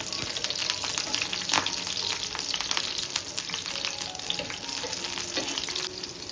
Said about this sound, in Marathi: आणि त्यानंतर ठेचलेला लसूण, मस्त लसणाचे फ्लेवर उतरते तेलामध्ये.